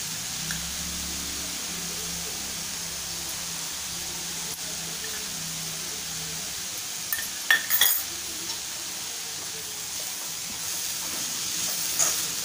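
Red amaranth greens stirred in a pan over medium gas, Malvani style, giving soft scraping and clinking of a utensil against the pan over a steady low hiss of steam, with a few sharper clanks toward the middle.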